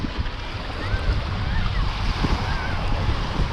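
Surf washes onto a small beach reached by a wooden boardwalk, with snorkelers nearby and a resort on the far side; a steady broadband wash with wind noise and faint distant voices continues throughout.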